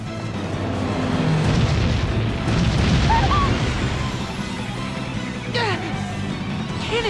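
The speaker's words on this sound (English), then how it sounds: "Cannon fire? This is madness!" Cannon fire booms in the video game Bravely Default, a loud rumbling barrage of explosions rolling continuously under game music and a speaking voice.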